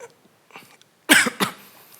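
Two harsh, dry coughs in quick succession, close and fairly loud, come from a person with a persistent cough at an indoor church gathering, preceded by faint shuffling and breathing.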